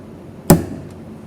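A hammer strikes a piece of hard candy in a chemistry lab demonstration, one sharp, close crack as it chips, followed by a faint tick of a fragment.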